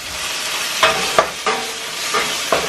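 Food sizzles and fries in a small tempering pan while a utensil stirs it, giving a steady crackle broken by several sharp scraping taps.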